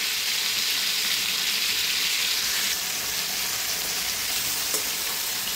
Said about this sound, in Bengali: আমার ভাজা হয়ে গেছে